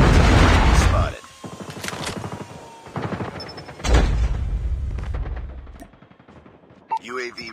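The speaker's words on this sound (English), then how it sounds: "Friendly Predator missile inbound." Predator missile strike in Call of Duty Mobile, with heavy booming blasts and bursts of gunfire arriving in waves, loud and close, mixed with rumbling debris and a short radio voice near the end.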